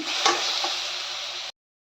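Masala with salt and turmeric is stirred in a pan, a soft steady frying hiss with a single brief scrape of the spoon, cutting off abruptly.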